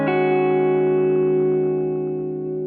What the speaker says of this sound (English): So this is the double take block.